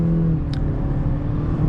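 A 2022 Toyota Corolla LE accelerates in normal drive mode at about half throttle, a smooth, steady engine hum and whir rising slightly, heard briefly from inside the car.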